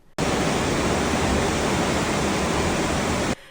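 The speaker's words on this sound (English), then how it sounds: "sitting out there you will definitely hear the ocean as we're traversing through it" Ocean water rushing past a cruise ship at sea, heard from a stateroom balcony on the Emerald Princess: a steady, loud broadband roar that starts abruptly, holds for about three seconds and then cuts off, with no talking.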